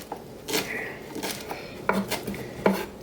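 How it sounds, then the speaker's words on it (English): Kitchen knife chopping fresh basil on a board while making dairy-free lasagne, a few sparse, distinct chopping knocks with some clinking of utensils in between. "I'm just gonna chop the basil"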